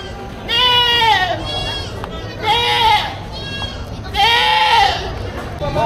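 Goats at a livestock market bleat loudly and close by in three long wavering calls, one after another, over a steady murmur of crowd noise.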